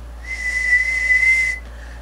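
A single steady whistled tone into a microphone held for over a second, close and clear, with a soft breathy hiss around it and a low hum underneath, heard through a Swinger 205 linear amplifier on the bench.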